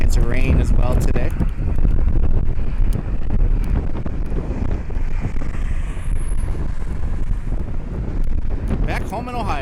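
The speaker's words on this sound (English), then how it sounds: "Very windy today, gusting to 25 right now." Strong gusty wind at an airport plane-spotting spot near Cleveland batters the microphone with a continuous loud, rough roar that swells and eases, and a voice speaks briefly at the start.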